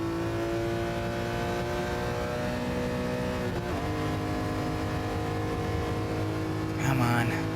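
A race car engine in Gran Turismo Sport holds a steady, sustained drone at full power, with a brief shift near the middle and a louder burst at the end, while a voice talks over it.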